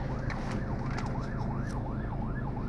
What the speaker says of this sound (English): Oh, we've got an ambulance and we've got to split the.